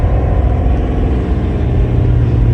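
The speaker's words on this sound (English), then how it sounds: "We can downshift to second." A Fummins tow rig truck pulling a skidsteer downshifts to second gear approaching a stoplight, its loud, close diesel engine droning steadily with a low rumble and no voices.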